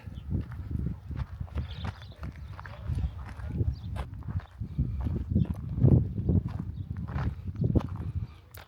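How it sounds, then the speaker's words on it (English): Hooves clopping and shuffling on a hard floor, with horses moving about close by in a stable beneath a building in Ortahisar, Cappadocia, Turkey, and some muffled stable noise throughout. "There's horses underneath this one here, obviously a stable."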